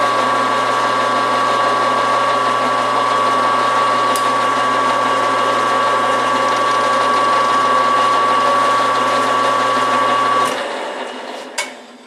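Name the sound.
cutter cutting around a metal shaft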